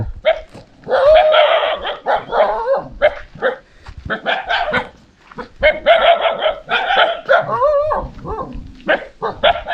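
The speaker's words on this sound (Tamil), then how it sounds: "இன்னொரு இவ்வளோ நாய் வருது." Five or six dogs barking at a lone house deep in a forest clearing, loud, close yelping and bow-wows in overlapping bursts that pause briefly around the middle and resume.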